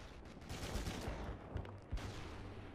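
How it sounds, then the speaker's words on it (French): Springfield bolt-action rifle fire in Call of Duty 2, heard as a busy burst of shots with several sharp cracks standing out over a dense battlefield din, loud and close. "Allez, on gaspille les munitions Springfield"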